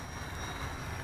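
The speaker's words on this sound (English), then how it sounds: "Alright, there's full throttle" An eFlite MiniStick RC airplane's electric motor at full throttle, a steady, continuous whine and buzz of a small propeller close by for about a second.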